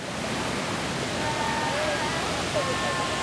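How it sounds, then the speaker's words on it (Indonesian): Argoyoso waterfall pouring into small streams, a steady broadband rushing roar that holds evenly from start to finish with no breaks. "Di belakang saya itu air terjun"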